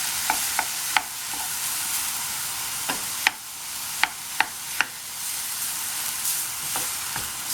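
Minced beef sizzles steadily in a hot pan for a Bolognese sauce, broken by several sharp scrapes and clicks of a utensil stirring it round, close and with no voices.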